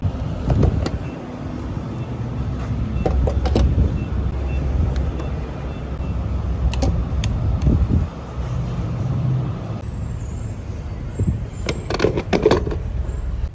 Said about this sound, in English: Car ride. Let's go.